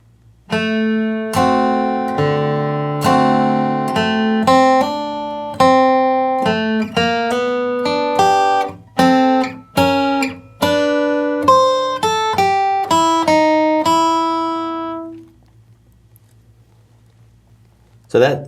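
Country lead guitar plays the measures 6 through 9 phrase of a song as a run of clean, distinct plucked single notes over about fifteen seconds, each attack ringing briefly before the next, then falling silent.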